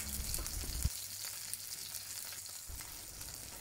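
A halibut fillet pan-fries skin side down, giving a continuous, quiet, even sizzle with a low hum underneath and a single faint clink, nearby and steady throughout.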